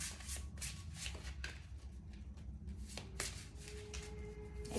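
Spirit animal oracle cards are shuffled close up in rapid, riffling bursts, with quieter handling between them.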